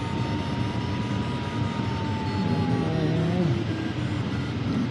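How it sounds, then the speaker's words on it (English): A light aircraft's side-mounted propeller on the fuselage drones steadily in flight, a loud continuous hum with shifting tonal whine as engine pitch drifts. "That's the propeller on the side of the fuselage, that sound."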